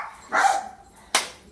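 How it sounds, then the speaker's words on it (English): A dog barks in the background indoors during a home workout, two sharp barks about three quarters of a second apart, moderately loud with no talk over them. "ignore my dog as he barks in the background"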